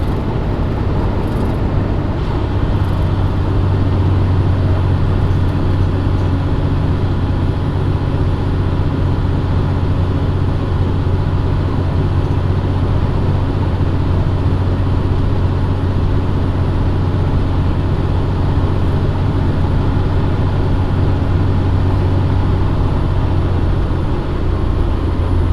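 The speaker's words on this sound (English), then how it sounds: "Notice the engine has gotten louder. That's my Jake brake." A heavy truck's engine with the Jake brake engaged drones loudly and continuously from inside the cab, a steady low rumble with strong low tones holding for the whole stretch.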